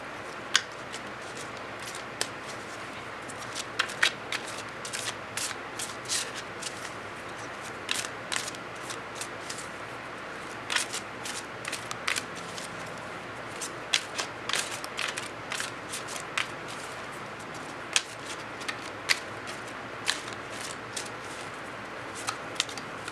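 A deck of oracle cards is shuffled by hand in a quiet room, giving a steady run of soft, crisp riffles and slides with sharper snaps scattered throughout, close to the ear.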